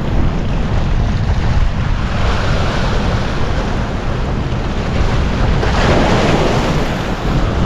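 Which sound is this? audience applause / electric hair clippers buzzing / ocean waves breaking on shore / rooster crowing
ocean waves breaking on shore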